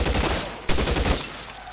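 Gunfire in the L.A. Noire crime video game: a short burst of several close, loud shots in quick succession that fade out after about a second.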